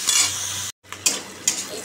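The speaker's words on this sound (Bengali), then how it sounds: "করলা ভাজা হয়ে গেছে" Bitter gourd sizzles steadily as it fries in a pan, with a few sharp clinks of stirring and a brief break in the sound partway through.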